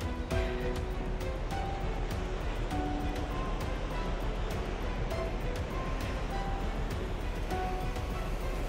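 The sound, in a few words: ocean surf churning at Nusa Penida coast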